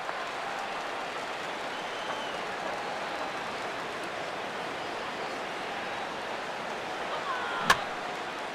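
Steady roar of a crowd of over 36,000 rising to its feet in a stadium in the baseball video game MLB The Show 16, a constant broad wash with one sharp crack near the end.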